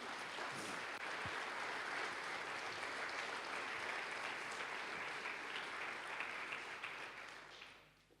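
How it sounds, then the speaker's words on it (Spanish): A church congregation breaks into loud, sustained applause during a sermon, a dense wash of many hands clapping that holds steady before tapering off at the end. "Dale un fuerte aplauso."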